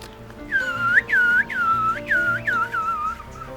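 Whistled human imitation of a grey-fronted green pigeon call, a series of about six clear, sliding, descending whistled notes in an uneven rhythm, close and fairly loud over faint room noise.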